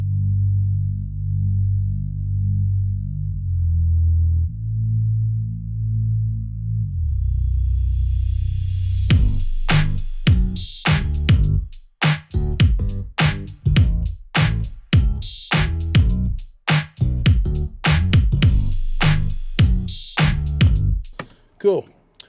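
Doubled bass part soloed from a Dolby Atmos mix of a track, deep sustained low notes at first, then a rapid run of punchy plucked bass notes with sharp attacks, loud and full.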